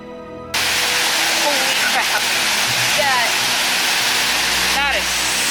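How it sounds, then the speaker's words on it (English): The large waterfall at St Nectan's Glen, a loud, close, continuous rushing roar that fills the scene after a brief quieter start, with faint voices occasionally audible over the falling water. "go check out the waterfall without getting too wet"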